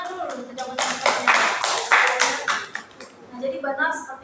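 A group of students claps to applaud classmates' answers during a group guidance session, a dense burst of hand claps lasting a few seconds before thinning out, with some voices in the room.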